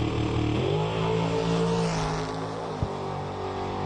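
A drag race car launches down the strip in a $10,000-to-win bracket race, its engine roaring loud with a rising pitch, then a sharp shift and a dropping note as it pulls away.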